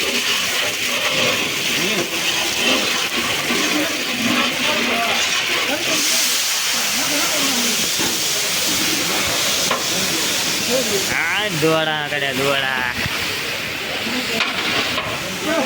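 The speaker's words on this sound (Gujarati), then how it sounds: "આ કઢીનો વઘાર જો છે" Hot oil tempering (vaghar) for kadhi at a Bagdana seva mandal gathering in Shobhavad, a loud, continuous hiss and sizzle running throughout with voices talking over it.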